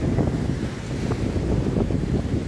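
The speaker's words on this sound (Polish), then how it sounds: "piękne fale. Trochę zimno i wiatr wieje" Sea waves and wind at a cold, windy seaside make a steady, rumbling wash of surf, with wind buffeting the microphone throughout and no voices.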